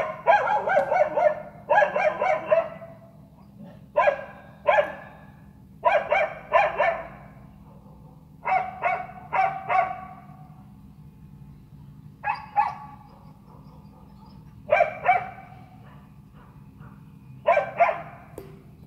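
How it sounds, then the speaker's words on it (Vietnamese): Two dogs bark outdoors in the wild, sharp bursts of barking repeated in irregular clusters throughout, fairly close and loud over a quiet background. "Con chó nó chạy xuống đây, nó nghe tiếng động."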